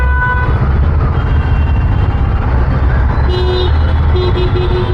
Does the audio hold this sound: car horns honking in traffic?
yes